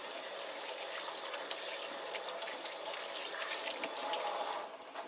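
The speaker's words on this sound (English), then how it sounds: "Gotta wash your hands." Hands are washed under a running kitchen tap: a steady, moderately quiet rush of water with small splashy variations that continues throughout, then eases near the end.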